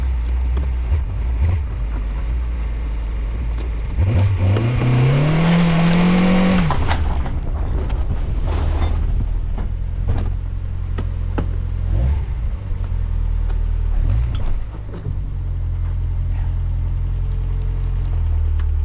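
A Locost donor car's engine idles steadily up close, then revs up with a rising whine before settling back to a rough, continuous running note.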